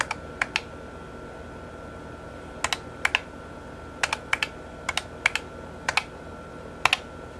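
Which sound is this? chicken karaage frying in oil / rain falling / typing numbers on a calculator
typing numbers on a calculator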